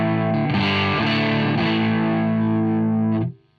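Electric guitar pushed through a tube screamer clone pedal into a gain-boosted, crunchy Marshall Plexi amp, a loud distorted chord strummed a few times then left ringing before cutting off abruptly.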